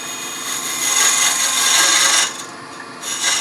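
A box scraper tapers a walnut box on a woodturning lathe spinning around 1,000 rpm, giving a close, continuous hissing scrape that swells, drops off, then returns briefly.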